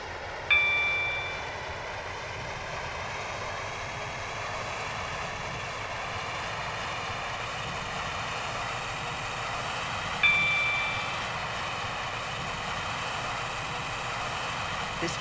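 Class 730 train running on the Waterline service to Newry, a steady interior rumble with two brief chime tones roughly ten seconds apart, no talk.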